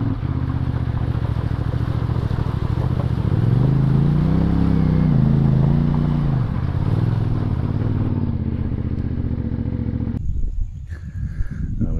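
Engines of CFMoto 450MT adventure motorcycles riding along an outback road, a steady loud drone with pitch rising and falling around the middle as the revs change, then cutting to quieter wind noise at the end.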